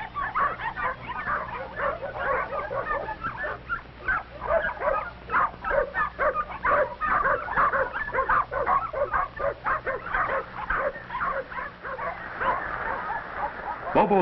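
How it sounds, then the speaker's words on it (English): A mother dog barks and yips repeatedly in quick, uneven bursts, close and fairly loud, with whimpering puppy sounds mixed in over a muffled background. "Mother Mack barks a warning"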